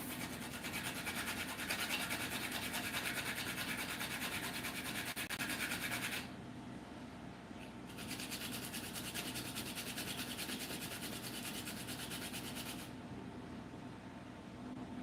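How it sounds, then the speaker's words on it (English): Whole nutmeg rubbed against a metal grater for a Jamaican sweet potato pudding, a continuous faint rasping scrape close by, briefly pausing and resuming, with no talk. "I'm going to grate some of this, some nutmeg."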